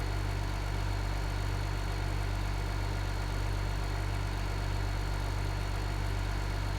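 Tractor engine idling steadily in Farming Simulator 15, a constant low rumble with even hum throughout and no talk.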